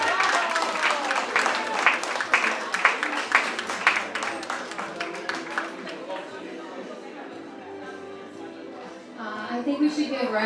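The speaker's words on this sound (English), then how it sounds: "I think we should give Raph another round of applause." Audience at a dance music history talk applauding, rhythmic clapping and crowd noise filling the first half alongside a speaking voice, then fading as talk continues and a little clapping returns at the end.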